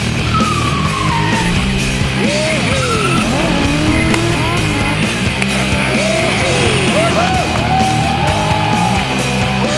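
A car spins and skids at landmarks around Bangkok, with tires squealing in repeated sweeping screeches over a constant roaring engine, loud and close throughout.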